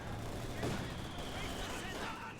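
Scattered gunfire in a World War II strategy game match with a T70 tank and a burning Molotov cocktail, faint distant shots and battle noise under a commentator's talk.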